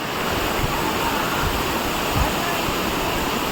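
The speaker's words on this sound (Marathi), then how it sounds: "आणि तुम्हाला वॉटरफॉल दाखवतो, धबधबा" Umbarde Waterfall near Nashik, in monsoon flow, roars steadily and close, a full continuous rush of falling water with no pauses.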